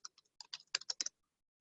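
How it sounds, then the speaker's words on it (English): Quick bursts of keystrokes on a computer keyboard during an online student senate meeting, a short run of soft clicks over about a second, close and fairly quiet, with no talking. "I'm still typing"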